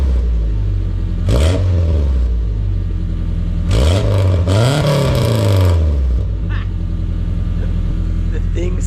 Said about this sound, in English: Give you guys a little rev on this thing